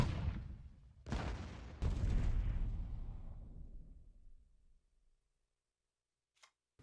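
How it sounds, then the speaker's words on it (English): A Panzer tank is destroyed in the card battle game Kards. Three loud, close explosive blasts land about a second apart, each with a deep boom, then a long rumbling decay fades to silence, followed by a faint brief click. "Let's destroy his"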